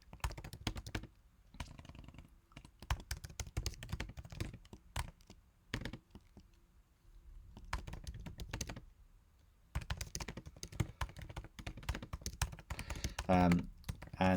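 Bursts of computer keyboard typing come up close, fast clicking keystrokes broken by short silent gaps, with a few heavier key thunks near the end.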